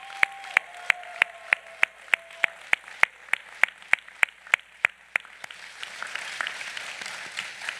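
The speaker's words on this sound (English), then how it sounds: "graduates, please join me in giving your families a hearty round of applause" At a university graduation ceremony, sharp, evenly spaced claps ring out close by over a faint steady tone, then a broader wave of audience applause spreads through the hall and carries on.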